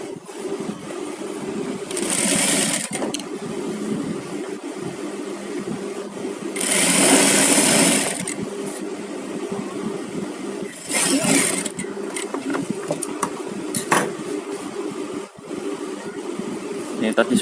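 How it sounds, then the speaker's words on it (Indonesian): A sewing machine stitches fabric in several bursts of whirring at different lengths, close and clear, with a person talking quietly between and over the runs. "Ini kita jahit."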